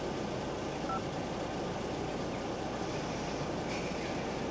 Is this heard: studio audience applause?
no